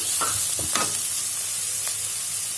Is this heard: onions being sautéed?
yes